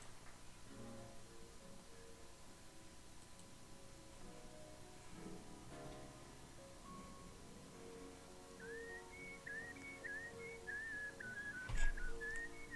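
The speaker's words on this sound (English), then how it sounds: "He's whistling with his throat." A man whistles from the back of his throat, a thin wavering tune that grows clearer in the second half over a low, murky background.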